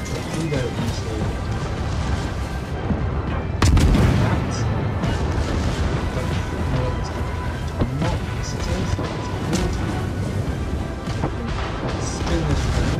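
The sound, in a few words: torpedo launch and explosions in World of Warships video game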